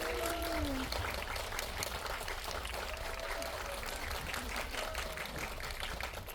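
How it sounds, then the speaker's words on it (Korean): Applause from a cinema audience welcoming actor Lee Je-hoon to a CGV fan event, a steady dense wash of clapping held at even loudness throughout, with faint voices mixed underneath. "큰 박수로 맞이해 주시기 바랍니다"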